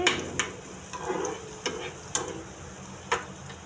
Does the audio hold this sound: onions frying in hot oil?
yes